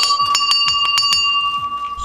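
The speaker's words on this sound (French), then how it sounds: "Et puis, eh bien, faire sonner la cloche." A bell rung rapidly at a survival challenge, about seven bright metallic strikes in quick even succession, then a ringing tone that fades.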